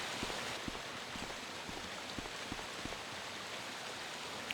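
Waterfall in the 1996 Resident Evil 1 game, a steady, dense watery rush with faint scattered splashes, continuous and even throughout.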